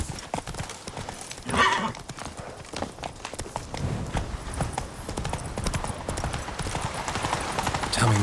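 Roach, the horse in The Witcher 3, gallops along with a steady rapid clip-clop of hooves and a brief neigh, and a voice is heard over the running hoofbeats.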